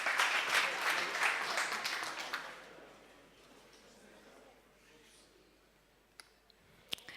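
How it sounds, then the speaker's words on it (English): Brief applause from a startup competition audience welcoming a presenter, moderately loud at first and fading away after a couple of seconds, followed by quiet room tone and a few sharp clicks. "please welcome with your warm applause, Flyzer."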